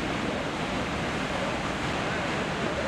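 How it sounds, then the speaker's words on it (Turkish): Continuous roaring wash of storm surf and crashing waves flooding a coastal road in Giresun, Turkey, with wind noise, steady and dense, no clear pauses. "Tsunami benzeri dalgalar nedeniyle sahil yolunu su bastı."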